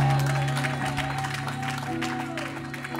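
A church congregation claps and cheers during a sermon, a dense applause wash over sustained organ or keyboard tones, with voices mixed in.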